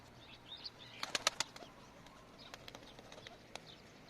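Pigeons at a coop flap their wings in a quick burst of close, sharp beats, followed by scattered softer flutters and faint cooing against a quiet background.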